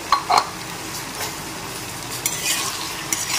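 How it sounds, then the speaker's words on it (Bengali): Ridge gourd and potatoes are stirred with poppy seed paste and green chili in a pan, giving a soft sizzle with a few sharp scrapes of a spatula early on and quieter clinks of stirring after that. "এখন একটু নেড়েচেড়ে মিশিয়ে নিচ্ছি।"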